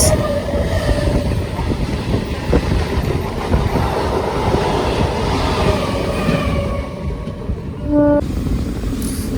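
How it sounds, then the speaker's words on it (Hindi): The Delhi Fazilka Intercity Express rolls into platform 1 at Ambala City station, a loud, continuous rumble of wheels and carriages close by with wind buffeting the microphone, ending in a brief horn-like tone. "अम्बाला सिटी के 1 नंबर प्लेटफॉर्म पर अराइविंग करती हुई दिल्ली फाजिल्का इंटरसिटी एक्सप्रेस।"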